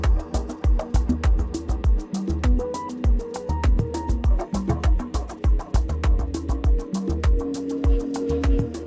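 Full mix of a relaxing desert house track: steady thumping kick and percussion under layered melodic synths, with long dub delays trailing off and repeating echoes, loud and continuous throughout.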